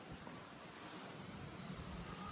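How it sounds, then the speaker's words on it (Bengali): Steady, broad rushing of wind across the microphone, continuous and fairly loud with no voices, like a breezy open-air gust. "এই দেখ কি সুন্দর হাওয়া দিচ্ছে"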